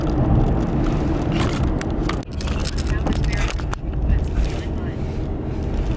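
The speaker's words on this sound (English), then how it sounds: "it's windy" Gusty wind roars and buffets steadily with rumbling low noise, interrupted by brief clattering bumps and short pauses in the gusts.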